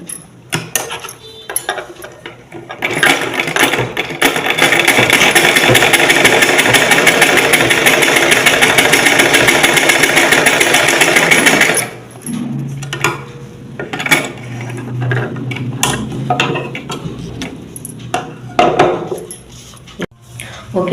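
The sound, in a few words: sewing machine running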